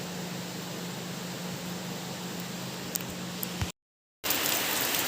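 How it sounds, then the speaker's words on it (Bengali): Dense, steady rain pouring down in a continuous hiss, close and loud, with a few sharp drips, then a brief moment of silence before the downpour resumes. "এই দেখো কেমন জোরে জোরে বৃষ্টি হচ্ছে।"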